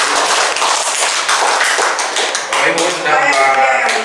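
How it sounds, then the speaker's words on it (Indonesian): Dense applause from a school audience at a positive-culture dissemination event at SMK Negeri 1 Calang, a steady loud wash of clapping over about four seconds with voices mixed in. "Berikan aplaus"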